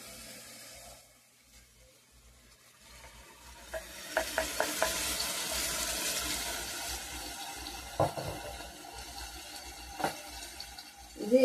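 Blended tomato juice poured into a frying masala for a beef and mutton gongura curry, then stirred: a wet sizzle and bubbling builds up, with several sharp spoon scrapes and clacks against the pan.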